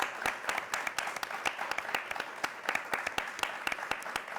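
A television studio audience applauding, a thinner crowd where individual claps stand out as distinct sharp hits in a quick irregular patter, moderately close, with no speech over it.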